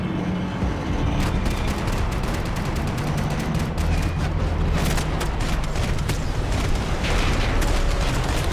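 Loud, continuous gunfire and booming blasts in the video game Max Payne 3, with rapid shots overlapping in a dense, unbroken barrage.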